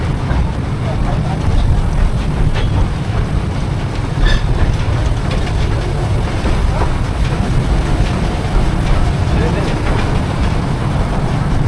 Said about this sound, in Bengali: আমরা এখন ঘুম স্টেশন থেকে আবার ছেড়ে দিয়েছে ট্রেন